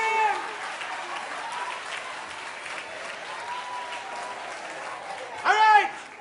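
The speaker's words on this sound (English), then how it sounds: "Clap him!" Audience applause for a performer during a Jamaican comedy stage play, with a steady wash of clapping throughout and a short louder burst near the end.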